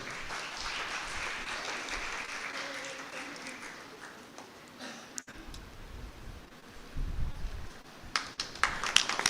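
Audience applause welcoming guests at an international conference on India's National Education Policy 2020, steady clapping from a hall crowd that swells louder toward the end, with faint speech mixed in early on.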